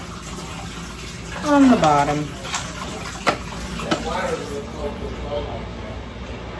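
Tap water runs steadily while dishes are washed at a kitchen sink, a constant splashing hiss with a few clinks, under a person talking nearby.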